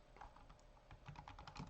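Quick, light tapping on a computer keyboard, a short run of soft, close keystrokes at a low level, with no talking.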